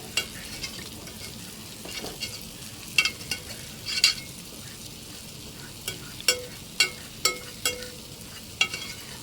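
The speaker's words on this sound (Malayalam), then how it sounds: "തവി വെച്ചിട്ട് ഇങ്ങനെ ഒന്ന് ആക്കുമ്പോഴേക്കും അത് ഉടഞ്ഞ് ചേർന്നോളും" A ladle mashing cooked lentils inside a pot, soft irregular taps and scrapes over a quiet background, no voices.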